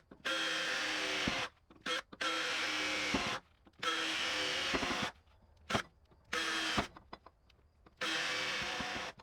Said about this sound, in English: So let's drill some holes into this pipe.